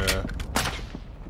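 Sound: gunfire from video game Call of Duty MW2

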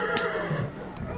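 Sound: horse neighing

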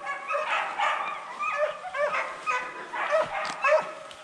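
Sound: hunting dogs barking during deer hunt

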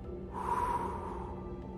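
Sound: exhaling breath out through the mouth

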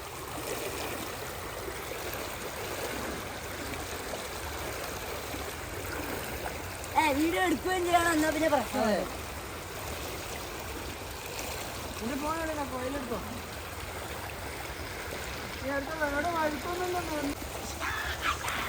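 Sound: strong flowing water of a rain-filled stream

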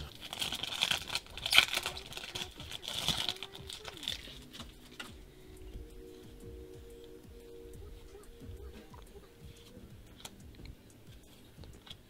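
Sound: opening Yu-Gi-Oh Dragons of Legend 2 foil booster packs

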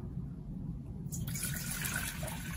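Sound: tap water filling a pot

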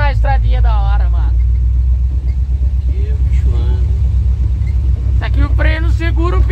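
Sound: lowered Ford F100 pickup engine driving on bumpy road

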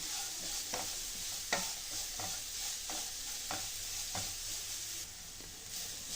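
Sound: grated carrot being stirred and fried in a pan

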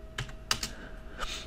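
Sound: typing a command on a computer keyboard

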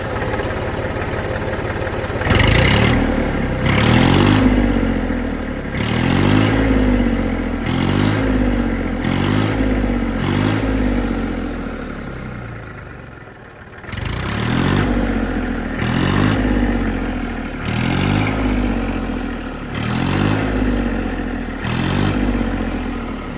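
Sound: Massey tractor engine with a newly replaced silencer

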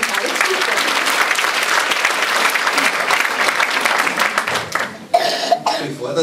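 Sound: audience applause at a talent show

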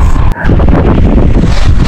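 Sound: strong wind blowing at sea while fishing

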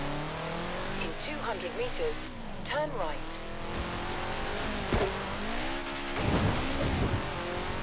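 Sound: car driving in video game Forza Horizon 4

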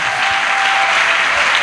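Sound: congregation applauding in church

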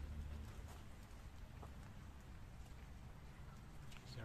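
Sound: rain falling

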